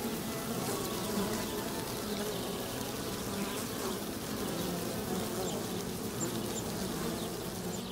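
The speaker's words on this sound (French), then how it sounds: "L'essaim sauvage est vite découvert, trop près des humains." A wild honeybee swarm gives off a dense, continuous buzzing drone from many bees at once. It stays steady and close for the whole stretch with no voices.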